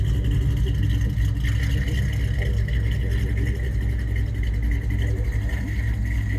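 A 1991 Ford Mustang LX with a GT40 crate motor and five-speed runs on a cold day, its engine droning steadily with a deep low rumble and a fairly constant pitch, close and loud.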